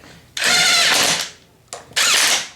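Power drill snugging bolts on a Honda four-wheeler during restoration: two loud, close whirring bursts, the first about a second long, the second following after a short pause, with no talking.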